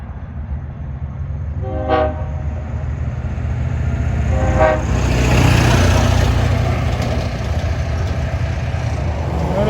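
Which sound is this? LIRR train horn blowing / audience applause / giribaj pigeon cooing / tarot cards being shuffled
LIRR train horn blowing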